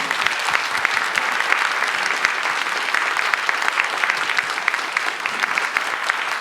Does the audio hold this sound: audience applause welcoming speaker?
yes